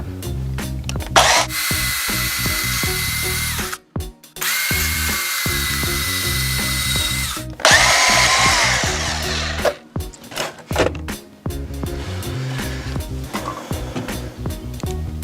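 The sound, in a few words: bandsaw cutting a metal bolt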